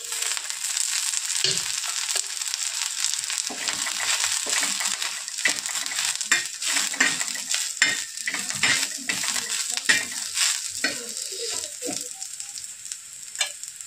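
Green chilies frying in oil in a pan, a busy close crackle and sizzle with frequent stirring clatter and scraping throughout.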